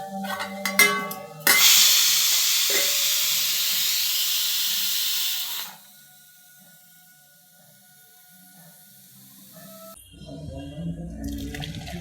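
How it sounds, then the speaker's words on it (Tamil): A sudden loud sizzle as spices for rasam tempering hit hot oil, hissing strongly for a few seconds before dying down, followed by quiet and then background activity. "இந்த பக்கம் ரசம் தாளிக்க போகிறேன்."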